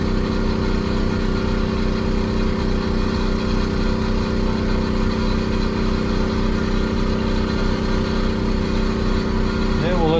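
Water pump engine running beside a pond, a loud steady mid-pitched drone with a constant throbbing idle that never changes, and someone talking faintly over it.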